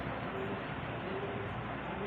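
Fancy pigeons for sale, including a black pair, coo softly with low murmurs buried in a steady, loud wash of broadband noise.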